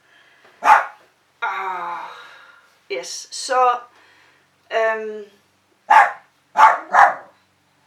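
A dog barks several times nearby in short loud bursts, with a few brief spoken words in between.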